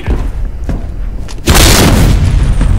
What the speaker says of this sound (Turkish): Adamın içinde patladı ya